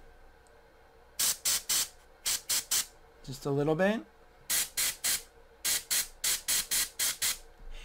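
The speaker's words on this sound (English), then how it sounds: "I'm going to do a hard spray, blow that out" Hard bursts of airbrush spray laying down primer on a miniature model, about a dozen short hissing blasts in quick rhythmic pulses, close and loud, with a brief spoken remark in the middle.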